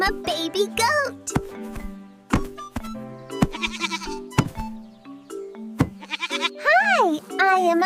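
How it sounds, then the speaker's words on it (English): A baby goat bleating in a children's farm-animal learning segment, several short wavering bleats over light music, with a voice speaking alongside. "Hi, I am a baby goat."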